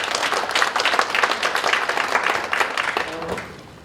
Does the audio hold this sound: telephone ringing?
no